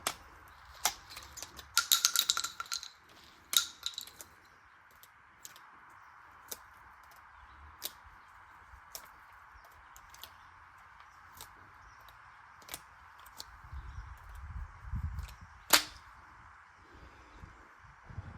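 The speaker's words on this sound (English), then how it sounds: "gravity is able to help with the shells going into the cylinder and you're not trying to force them" Shotgun shells are loaded one by one from a Monstrum side saddle into the cylinder at a shooting range, producing sharp scattered clicks and metallic ticks at an irregular pace, with a few soft thumps, fairly quiet.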